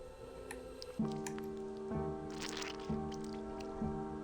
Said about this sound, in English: A deep guttural bellow can be heard amidst the tearing of the meat and snapping of bone